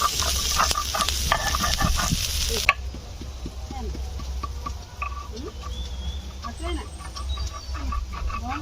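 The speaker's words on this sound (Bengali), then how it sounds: "কলমি শাক ভাজার সঙ্গে গোটা জিরে হবে" Water spinach greens frying in oil with whole cumin, chilli and onion: a loud steady sizzle that drops to a softer crackle with stirring scrapes, a hen clucking nearby and a voice speaking.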